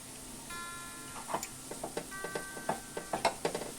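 Onions softening with salt in a pan for a Marathi padval birda (snake gourd and field bean) dish: a soft sizzle under repeated light clinks and scrapes of stirring, close and fairly quiet, with no voices.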